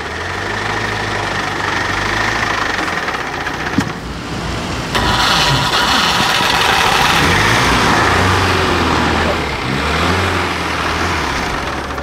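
A newly bought used car's engine runs loud and close, a rough droning idle with a sudden jump in level partway through as it is revved, and no talk over it.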